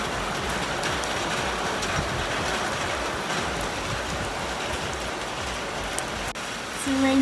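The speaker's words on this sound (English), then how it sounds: "It's a rainy day in Gulu today." Steady rain falls outdoors in Gulu, Uganda, a dense continuous hiss of drops on surfaces, with a brief clatter and faint tonal sound near the end.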